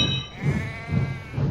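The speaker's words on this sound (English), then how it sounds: "the sheep were already making their way slowly across the track" Sheep bleating near a track in spring, a few wavering calls close by and clear, with a short pause between them.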